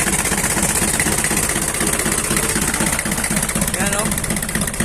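An old-model Mitsubishi 4D30 diesel engine idles in good condition with a steady, loud, rhythmic clatter close by, someone talking over it.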